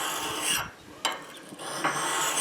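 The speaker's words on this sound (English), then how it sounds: "being that we have such a fine stone and we're just hand sharpening this" An ice auger blade is hand-sharpened on a fine stone, giving close, soft rasping strokes in an uneven back-and-forth rhythm with brief pauses between passes.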